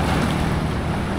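Sea waves wash against the shore, a steady loud rush of surf mixed with wind buffeting, with no voices.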